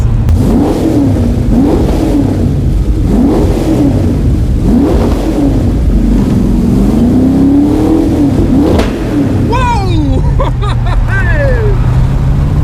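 A car engine revs repeatedly in rising and falling surges, loud and echoing inside the Goodwood tunnel, before settling to a lower drone.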